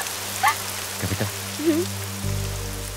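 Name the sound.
rain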